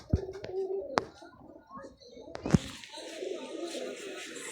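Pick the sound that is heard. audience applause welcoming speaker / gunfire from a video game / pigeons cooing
pigeons cooing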